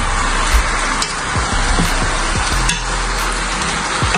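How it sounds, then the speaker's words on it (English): Meat searing in a non-stick pot for Haitian lalo with jute leaves: a loud, constant close-up sizzle, broken by a few scraping stirs of the pot, with no voices. "next we are going to sear the meat"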